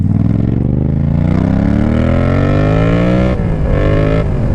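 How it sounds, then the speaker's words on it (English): A loud, close engine roar with rising and falling pitch as motor vehicles pass nearby, including a Harley motorcycle; the sound continues steadily for the whole stretch, with no talking over it. "All the motorcycles are out today."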